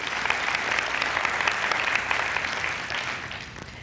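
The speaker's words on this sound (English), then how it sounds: "who's clapping for the firefighters?" A church congregation claps for firefighters who saved a retreat center, a dense, even wash of applause sustained at moderate level and slowly thinning toward the end.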